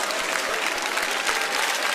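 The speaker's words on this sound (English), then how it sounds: "Give an applause to that man." Steady applause from a live morning-show crowd fills the moment, a dense continuous patter of many hands clapping at even loudness with no voices over it.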